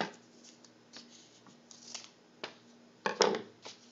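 Scissors snip paper for a papier-mâché large-mouth bass project, a few quiet scattered cuts followed by a louder cluster of snips near the end, close and alone in a quiet room.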